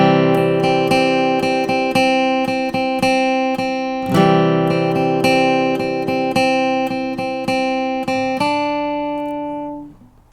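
A flatpicked acoustic guitar plays the bluegrass intro riff of Over the Waterfall. Crisp single notes are picked in a brisk, even rhythm, and the final note rings and fades.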